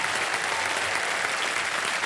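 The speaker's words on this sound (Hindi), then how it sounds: "चाहता हूँ कि जोरदार तालियां बज जाएं इनके स्वागत।" Loud, dense applause from a large TV game show studio audience welcoming a contestant fills the whole moment, steady and sustained without a break.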